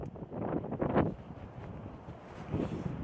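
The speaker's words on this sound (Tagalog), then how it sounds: "malakas ang hangin." Strong wind on Heping Island buffets the microphone in rough, rumbling gusts, swelling loudest briefly and again near the end.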